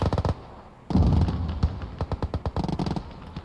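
Grenade blasts and gunfire from a 1v1 Gates of Hell: Ostfront battle at Nevel, with Soviet irregulars fighting: rapid bursts of sharp cracks, then a heavy boom, then more quick repeated shots, all fairly close.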